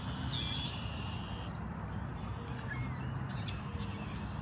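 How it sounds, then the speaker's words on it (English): Several birds chirp and whistle in the distance over a constant low outdoor rumble, with high thin calls scattered throughout, in a Toronto park. "there's like a lot of bird sounds going on right now"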